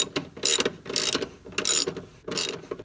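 Bolts on a Porsche 914 front sway bar bushing bracket being snugged with a ratchet, four bursts of rapid clicking strokes with short pauses between them, close and fairly loud, no talking.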